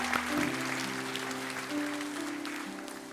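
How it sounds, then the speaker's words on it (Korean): Congregation applauding during a church service, a steady wash of clapping from many people throughout, moderately loud, with no voices over it. "큰 박수로 우리 다음 세대 한번 격려하기 원합니다"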